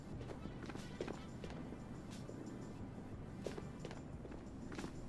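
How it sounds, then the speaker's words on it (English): Bot footsteps in the video game Ghosts of Tabor, a series of soft irregular steps moving through a building over a low, busy background, with speech-like sounds around them. "And those sound like bot footsteps."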